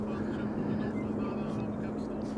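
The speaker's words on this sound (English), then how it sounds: "Austrian flight 379 coming in from Vienna." Austrian Airlines flight 379 from Vienna arrives at Amsterdam Schiphol Airport with a steady, droning jet engine hum that holds a low tonal whine, continuous and moderately loud. Talking is heard over the engine noise.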